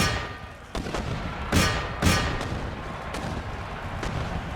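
Mortar artillery in Empire Total War, several dull booming shots thudding over a constant battlefield rumble, a couple standing out louder than the rest.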